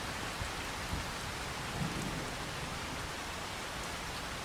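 Dense, constant rainfall and low thunder rumbles fill the scene in Farming Simulator 25 on PS5, a broad hiss with a swell of rumbling near the middle, no talking.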